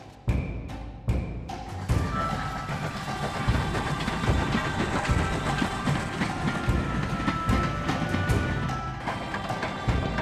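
A model railway train runs on a 1920s-themed club exhibition layout, opening with a few sharp clicks before a steady, close rattling roll of wheels over track joints that continues without voices.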